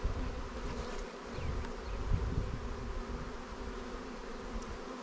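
Honeybees buzz steadily around an open hive, a dense, continuous droning swarm close by with individual bees flitting past; no one speaks.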